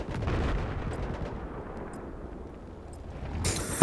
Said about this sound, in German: Ich höre die ganze Zeit Raketenwerfer schießen.